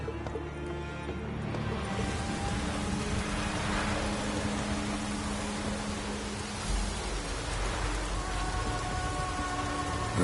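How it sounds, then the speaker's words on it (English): Steady rain falls in a PS4 game, a dense, even hiss of drops that keeps on without a break. No one speaks. "Looks like rain."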